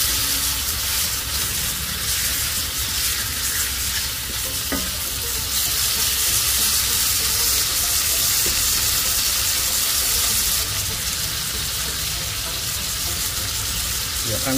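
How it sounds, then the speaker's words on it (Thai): Squid stir-fried with all-purpose seasoning sauce in a wok for a Thai basil squid dish, a loud, steady sizzle with continuous scraping and stirring throughout, with no talking. "ผัดคลุกเคล้าทั้งหมดให้เข้ากันนะครับใช้เวลาผัดไม่นานนะครับ"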